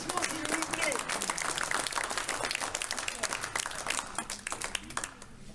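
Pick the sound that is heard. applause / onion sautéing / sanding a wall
applause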